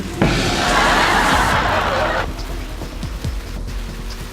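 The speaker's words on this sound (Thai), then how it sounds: "ฝนตกน่ากลัวจุง" Rain falls in the video game Saints Row III as a loud hissing downpour that starts abruptly, holds for about two seconds, then cuts off, leaving quieter chuckles and soft clicks.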